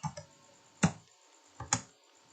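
A few sparse keystrokes on a computer keyboard while typing commands, four distinct close clicks in two pairs with quiet gaps between.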